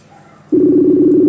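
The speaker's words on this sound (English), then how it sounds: "There you go. Phone's ringing." A phone line rings on an outgoing call, a steady low electronic tone that starts abruptly after a near-silent pause and holds for almost a second; loud and close, with no talking over it.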